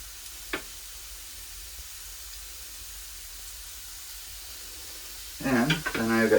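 Meatballs and sausage fry in a pan on a woodstove with a steady, close, hissing sizzle, and a voice starts talking briefly near the end.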